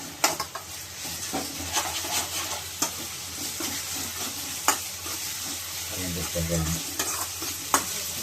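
Ginger paste fries in hot oil for tomato rice, making a steady close sizzle broken by repeated scraping knocks of a spoon stirring against the pan. No one speaks.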